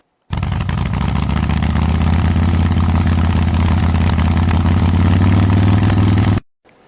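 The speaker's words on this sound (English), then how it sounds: "Motorcycle." A motorcycle engine idles close by with a loud, steady, low throbbing and mechanical clatter, starting abruptly and running evenly until it cuts out.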